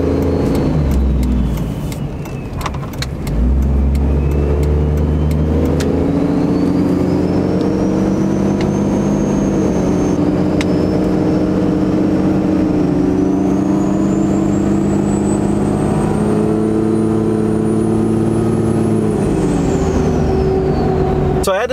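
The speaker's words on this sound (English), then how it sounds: "I want to show you just kind of like an acceleration pull with this truck" A Cummins 12V diesel pickup truck with an aftermarket lift pump accelerates hard, its deep engine drone rising steadily through a long pull with a brief drop near the start, loud and close from start to finish.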